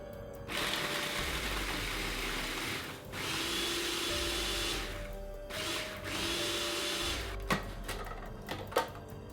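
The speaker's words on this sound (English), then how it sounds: "Now we're just going to grind these up until they're small bits." Food processor grinding Oreo cookies into small bits, a loud steady motor whir in three long bursts with brief pauses between, ending in a few sharp clatters.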